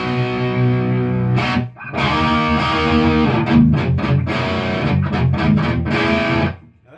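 Electric guitar on the bridge pickup through a Marshall Valvestate 8100's boost overdrive channel, no reverb, plays loud sustained distorted chords and riffs with a brief gap near two seconds and a cutoff at the end.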